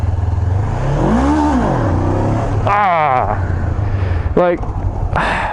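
Honda CB500F motorcycle engine revving loudly during a wheelie attempt, with repeated rising and falling rev sweeps over a steady rumbling drone and brief sharp throttle blips near the end.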